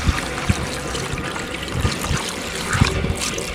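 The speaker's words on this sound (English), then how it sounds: "I poured off that gas again out of that stainless container into this bucket." Gasoline pours from a stainless container into a bucket, a continuous trickling, splashing stream with a few sharper low knocks, close by and steady, no voices.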